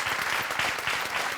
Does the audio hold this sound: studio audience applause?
yes